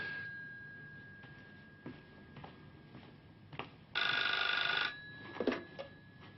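A telephone rings once in a short, steady, bright burst of about a second, fairly close, over a quiet indoor background with faint knocks and rustles around it.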